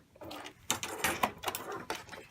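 A sewing machine back stitches the bottom of a flat fell seam in several short, uneven mechanical bursts with brief pauses between them, close and moderately quiet.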